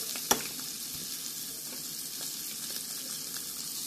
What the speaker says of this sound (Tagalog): habang nagluluto ako ng salmon, uumpisahan ko na rin yung shrimps.